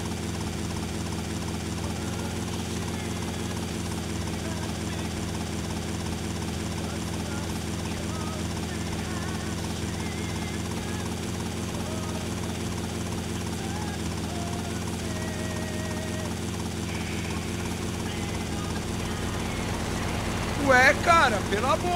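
Helicopter in GTA Vice City, a steady rotor and engine drone held throughout at an even level, with game music or effects layered over it and a brief louder burst near the end.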